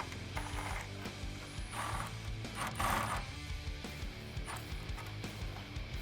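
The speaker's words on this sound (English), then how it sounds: "I'm just going to take an 8mm socket, loosen those up, and remove them" Rapid ratcheting clicks from an 8mm socket ratchet loosening bolts on a 2015-2017 Ford F150 grille, repeated in short bursts over a steady mechanical background, close and fairly loud.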